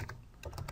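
Brief run of quick keystrokes on a computer keyboard, soft and close, with irregular clicks and no talk.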